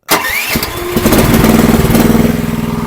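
A cheap Chinese mini skid steer's small engine cranks briefly and fires up, settling into a loud, close, steady chugging idle.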